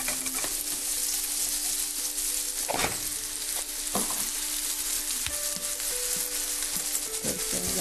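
Rice goes into a hot pan and is stirred, giving a dense continuous sizzle broken by a few louder scraping stirs, close by and fairly quiet, with no talking.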